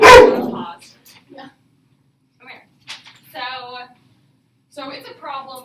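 A dog lets out one sharp, loud bark close by at the start, followed by scattered quieter sounds and a person talking.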